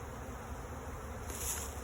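Honey bees from a swarming hive buzz in a soft, continuous hum of many wings, steady and unbroken, with no one talking.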